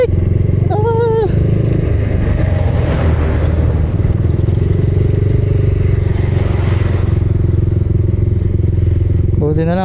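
A motorcycle engine runs steadily and loudly after being restarted on a group ride in Batangas, with a continuous rumble throughout and voices talking briefly at the start and end.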